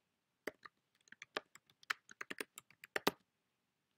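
Keys clatter on a computer keyboard as a group name is typed, about twenty crisp, irregular taps over a couple of seconds in a quiet room, then stillness.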